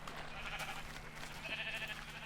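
Sheep bleating inside a pen in Minecraft, a few overlapping calls over a steady low hum, at moderate loudness with no talking.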